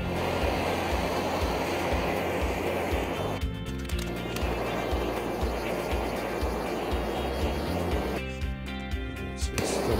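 A torch flame roars and hisses steadily against wood as it chars the surface of a carved bear. The flame sound drops out briefly twice before resuming, close and continuous.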